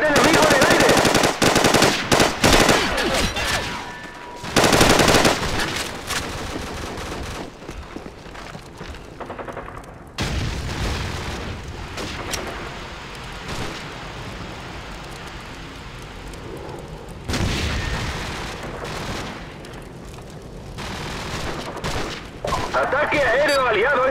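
Dense bursts of machine-gun fire and rifle shots rattle through a Call of Duty 4: Modern Warfare match on the Bog map, near and loud in rapid volleys with short lulls, under shouted in-game voices.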